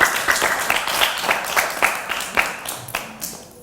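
An audience bursts into loud, rapid clapping mixed with cheers, a dense burst of applause that gradually thins toward the end.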